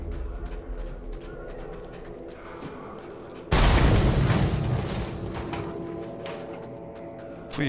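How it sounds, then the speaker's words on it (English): A sudden loud explosion in the Mad Max video game on Xbox One bursts in midway and fades into a long rumbling tail, following quieter game sounds. "Here's the required explosion."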